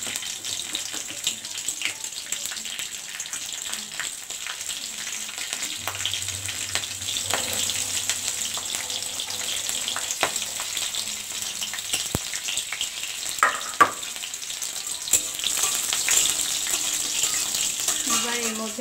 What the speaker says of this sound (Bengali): তেলটা গরম হয়ে গেছে, এর মধ্যে দেব কালো জিরে